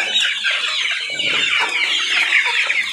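Several chickens of mixed breeds, including Brazilian birds, cluck and chatter continuously at a poultry farm in Mlomp, a busy overlapping flock sound close to the recorder with no talking.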